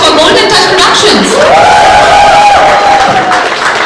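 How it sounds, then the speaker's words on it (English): A crowd at a Salman Khan and Katrina press conference cheers loudly, with a whistle-like whoop rising above the noisy hubbub for a few seconds. "So let's hear a round of applause for Golden Touch Productions."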